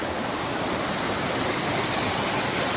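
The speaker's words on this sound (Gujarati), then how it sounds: "જો અત્યારે આવું એક નાળું આવે છે, જે ક્રોસિંગ કરવામાં ધ્યાન રાખજો" A mountain stream on the Girnar trail near the Jatashankar Mahadev waterfall, rushing in a steady, loud, broadband wash of water with no pauses, close by.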